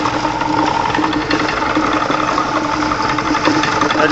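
A small motor on a homemade rock tumbler turns an ice cream mixer inside a pretzel bucket to agitate the load, giving a steady, loud mechanical hum and whir with a fine rattling vibration, unbroken throughout.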